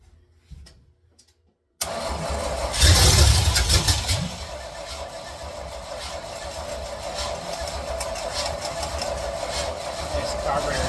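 A 1976 Chevy squarebody with a carburetor in need of a rebuild cranks briefly after a short pause, catches with a loud burst and settles into a steady rough idle that runs to the end.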